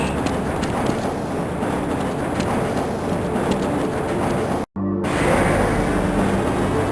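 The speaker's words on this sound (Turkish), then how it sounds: "Bu tren 3. kat yatakhanelerinden gelip sektörce test laboratuvarları ve denetim ünitelerine gitmektedir." The tram train of the Black Mesa facility in the game Half-Life rolls along its track with a continuous rumbling, clattering rail noise, a brief dropout near the end, then the steady rumble resumes.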